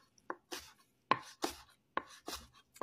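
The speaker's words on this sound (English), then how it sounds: "Chop them up." Pepperoncinis being chopped with a knife on a cutting board, about eight distinct crisp thuds at an uneven pace, close and clear, with no talking.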